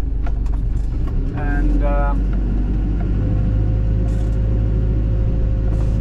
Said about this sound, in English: I drive the dumper